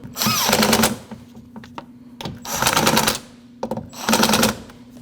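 Power tool driving and snugging the nuts on a 2014-2023 Jeep Cherokee side mirror, three loud whirring bursts separated by short pauses, close and alone.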